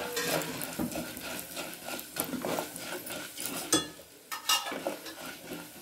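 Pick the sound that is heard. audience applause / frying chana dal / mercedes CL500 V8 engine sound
frying chana dal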